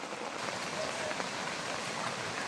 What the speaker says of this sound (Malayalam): മഴ. Oh my God, rainy season.